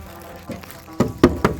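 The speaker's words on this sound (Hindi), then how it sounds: "टक टक टक टक टक टक टक टक दरवाजा खोलो।" Knuckles rap on a home door in a short series, a few soft taps followed by louder, quicker knocks, with faint room sound between them.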